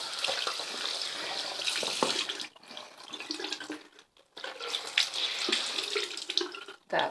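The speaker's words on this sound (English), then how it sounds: "Nice and clear water coming out of that" Water runs steadily, splashing and rinsing through a hat being washed, with brief pauses as the flow is interrupted and resumes.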